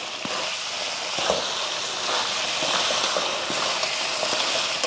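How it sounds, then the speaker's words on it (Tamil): Chicken varuval with masala being stirred in a frying pan, a steady close sizzle with scraping spoon strokes repeating through the mix, no voices. "ஒரு ரெண்டு நிமிஷத்துக்கு இந்த மாதிரி நல்லா கலந்து விட்டுருவோம்"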